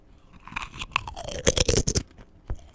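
Crisp crunching of a chip being bitten and chewed close up, a burst of several sharp crackles in quick succession followed by one last crunch, with no talking.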